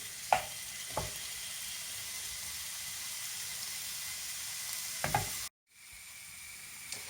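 Steady sizzling of turkey in a hot wok, punctuated by a few sharp scrapes and clanks of stirring, briefly cutting out before resuming.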